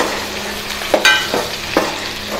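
Chopped tomatoes tipped onto browned onions in a hot pan, giving a steady sizzle with a few soft clatters and scraping stirs, close and moderately loud, no voices.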